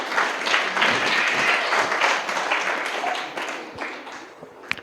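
A church congregation at a Sunday worship service claps loudly together, a dense, continuous burst of applause that holds steady before tapering off slightly toward the end.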